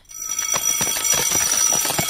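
A school bell rings continuously with a bright, rattling metallic tone, loud and close, sustained for about two seconds after a brief quiet start.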